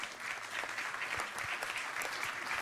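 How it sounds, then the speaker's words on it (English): An audience at a live sustainable chef competition final claps for the chefs gathered on stage, producing a steady, moderately loud wash of applause with no speech. "Please give them a huge round of applause."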